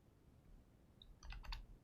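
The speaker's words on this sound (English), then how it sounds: "Sorry for my typing thing." A few quick clicks from a computer keyboard during a PhpStorm coding session, a short faint burst of keystrokes close by over low room hum, with no talking.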